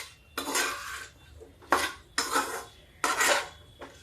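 Bers are being stirred and roasted in a pan for a spicy ber pickle, five distinct bursts of scraping and clattering spoon against metal, close and loud, separated by brief quiet gaps.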